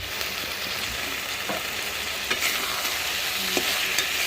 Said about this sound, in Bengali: পেঁয়াজগুলো একদম গোল্ডেন ব্রাউন কালার হয়ে যায় আর অনেকটাই গলে যায় ঠিক ততক্ষণ কিন্তু নেড়ে চেড়ে কষাবো